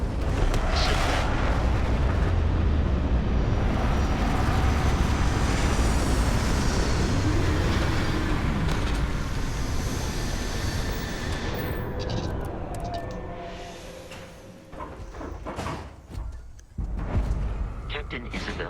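A spaceship in the video game Starfield coming in to land, a heavy roaring rumble of thrusters that holds steady for several seconds, then thins and breaks into scattered hisses and clanks as it settles.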